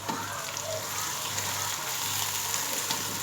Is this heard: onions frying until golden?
yes